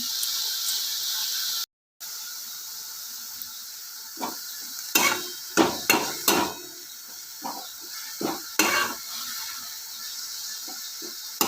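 Soaked moth beans stir in a hot pan for a vegetable dish: a steady soft sizzle runs under a series of sharp scraping, clattering stirs that come in quick bursts, close and fairly loud, with no talking.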